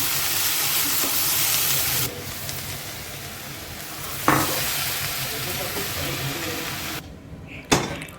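Chopped onions, vegetables and spices sauté in a hot pan with a steady, close sizzle and hiss, broken by a few stirring scrapes and clatters.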